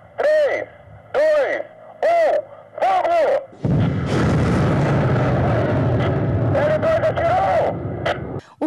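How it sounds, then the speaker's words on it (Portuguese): Ground-to-ground digitized rocket launcher firing on an army training range in Formosa, Goiás: a sustained, loud roaring blast lasting several seconds after a few short bursts of a voice, fading at the end. "onde os disparos foram feitos para testar os foguetes"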